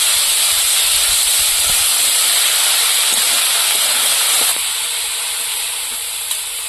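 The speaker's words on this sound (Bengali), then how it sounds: "এইভাবে নাড়াচাড়া দিয়ে শাকটা ভাজা করে নেবো" Steady, loud sizzling hiss of kalai greens frying in a hot pan, continuous throughout with a slight drop in intensity near the end.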